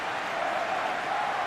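Steady applause from a stadium crowd in the football game PES 2021, a soft, even wash of clapping at moderate distance with a faint voice mixed under it.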